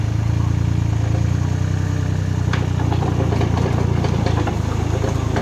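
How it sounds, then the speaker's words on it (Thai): A small excavator engine idles steadily with a low, even rumble and light mechanical clatter, running alone without pause. "สตาร์ทเครื่องขึ้นก็ทำงานเลยครับ"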